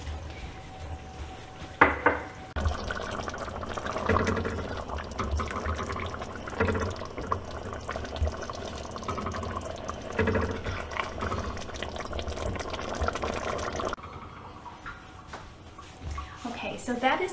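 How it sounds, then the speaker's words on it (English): Chunky homemade garden salsa poured into a pot of simmering chili, giving a wet, splattering glug with clinks against the pot, going on steadily under a speaking voice. "Now it is time to add my salsa straight from the garden."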